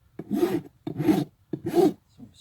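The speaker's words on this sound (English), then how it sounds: "just filing the square off the perimeter, making it rounded." Three rhythmic rasping strokes of a file across a horse's hoof during a barefoot trim, close and crisp, each scrape lasting about half a second with short pauses between.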